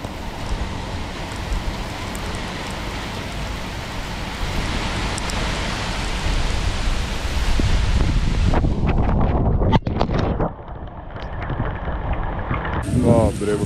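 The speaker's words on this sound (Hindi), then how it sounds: "एक घंटा हो गया भाई, बारिश ही नहीं रुक रही, हवा आई जा रही है।" Heavy rain and strong gusting wind from Cyclone Michaung on a flooded Chennai street, a dense steady roar close to the microphone with wind buffeting throughout and a brief clatter near the end.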